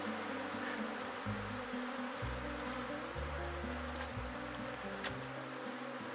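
Honey bees buzz steadily around a hive being split in the late afternoon, a dense, close, continuous hum with shifting low tones and no voices.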